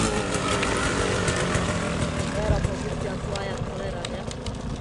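A Beta 300 motorcycle engine runs and revs with a dense, rough, steady roar close by, buffeted by wind noise, as a voice talks over it.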